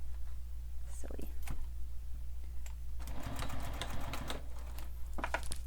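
A sewing machine stitches a sling pack seam in short stop-start runs, with a denser burst of rapid stitching in the middle, under a steady low hum and some faint background noise.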